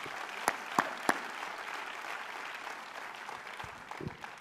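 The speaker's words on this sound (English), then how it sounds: "Give God a hand clap of praise" Church audience clapping in praise, fairly faint and distant, with a few sharp, louder claps near the start over a soft, steady patter that thins out toward the end.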